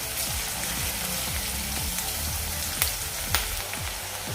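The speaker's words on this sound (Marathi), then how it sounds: "आता गॅसची फ्लेम आपण मिडियम करूया कांदा फ्राय होईपर्यंत" Chopped onion sizzles in a pan over a medium gas flame for a cabbage bhaji, a soft steady crackle with faint popping and a couple of sharper spits, quiet and close.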